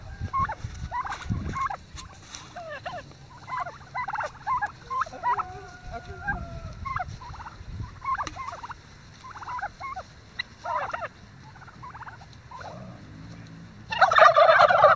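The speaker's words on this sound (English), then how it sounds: "Oh, here's the turkeys." A flock of Ridley Bronze turkeys gobbles repeatedly nearby, their rapid warbling calls coming in bursts, with a brief louder rustle at the end.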